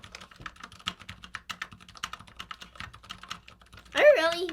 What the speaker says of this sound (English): Are you really typing a word in?